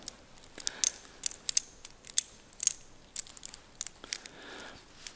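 Gedore thread restoring tool being turned with a 32 mm wrench in a workshop, a series of faint irregular metallic clicks and ratcheting ticks, close up and without speech.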